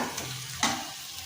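Masala with melted tomatoes frying in a pan for prawn curry, a steady close sizzle with a brief scrape of stirring partway through, heard alone without talk.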